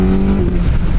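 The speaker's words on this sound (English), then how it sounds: "That was full gas. Did you hear that pop?" A Suzuki GSX-S1000 motorcycle at full throttle gives a loud, close engine roar with a sustained droning exhaust note over one second, without speech.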